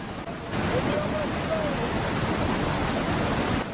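Floodwater from a swollen creek rushes hard beneath a bridge in Kuzeytepe after heavy rain, a steady loud roar of churning water with no letup, close by, after a brief quieter start.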